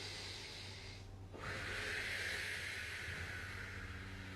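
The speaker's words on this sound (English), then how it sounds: "go 1 more deep breath" A slow, steady breath drawn in and held during an at-home mobility stretch, soft and close, with a brief quieter gap before the airy breathing resumes.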